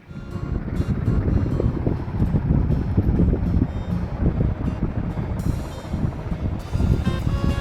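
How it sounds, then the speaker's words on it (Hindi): Strong wind blows outdoors in a Pakistani village, buffeting the microphone with continuous loud low rumbling gusts and occasional higher rustling, with no talking. "हवा चल रही थी"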